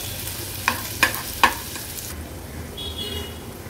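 Garlic, green chilies and a small onion sautéing in oil, a soft steady sizzle with three quick clinks of a spoon against the pan, no voices.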